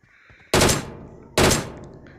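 Two loud, close gun bursts in a mobile shooter game, spaced under a second apart, each with a sharp attack and a short booming decay, with no talk over them.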